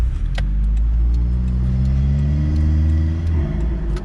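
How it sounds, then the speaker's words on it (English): Turbocharged Suzuki Vitara engine heard from inside the vehicle, a loud, steady low exhaust rasp with droning harmonic tones that rise slowly as it pulls, held continuously for the whole stretch with no talk over it. "That's the rasp. That's like almost like Harley Davidson rasp."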